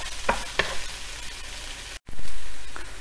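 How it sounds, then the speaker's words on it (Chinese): Scallion, ginger, garlic and potatoes stir-fry in a wok, a hissing sizzle punctuated by a few sharp scraping stirs, then a louder burst of frying as ingredients hit the hot oil after a brief cut. "葱姜蒜首先给它爆香一下，当香味儿出来之后，放入土豆"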